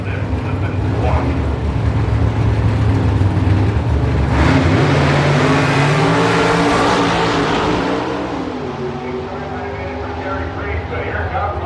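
A third-generation Camaro drag car at an NHRA nostalgia drag racing event roars loudly, its engine building to a sustained heavy rumble before easing off, with a commentator talking over it.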